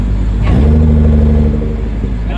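A Nissan GT-R launching hard with tires spinning, its engine rising in a loud, close rev that holds a strong droning pitch before easing slightly.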